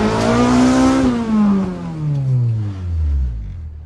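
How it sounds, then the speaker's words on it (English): A car with a GT3582 turbo engine revs loudly close by, its pitch climbing then sliding down in a long falling whine, with no talk over it. "The car sounds freaking awesome."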